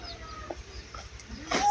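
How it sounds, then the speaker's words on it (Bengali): Young Sonali chicken chicks give thin, scattered peeps at close range over a low background hum, with a louder burst of chirping near the end and no talking. "আমি মুরগির বাচ্চা কিনে এনেছি, দেখতে পাচ্ছেন।"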